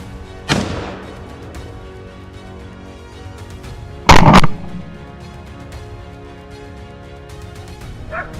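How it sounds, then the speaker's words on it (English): Two loud gunshots ring out in a forest several seconds apart, each with a rolling echo, followed by a faint distant yelp, during a wild boar hunt. "Gunfire echoed loudly through the forest"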